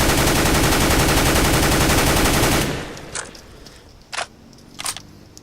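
Sustained automatic rifle fire in CS:GO from a standing position, a rapid unbroken stream of shots for about two and a half seconds, followed by a few faint clicks and small noises.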